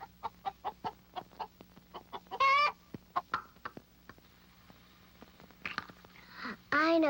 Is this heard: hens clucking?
yes